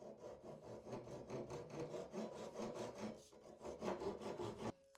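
A Japanese pull saw cuts through wood in quick, even rasping strokes that stay close and fairly soft, then stop abruptly at the end.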